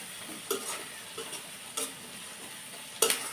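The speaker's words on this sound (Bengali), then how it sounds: "আমার পেঁয়াজটা কিন্তু অনেকটা ভাজা ভাজা হয়ে এসেছে, একটু লাল লাল, আবার একটু নরমও হয়ে এসেছে।" Onions fry softly in a pan, browning and turning tender, with a faint sizzle under a handful of distinct scraping stirs of a spatula spaced across the few seconds.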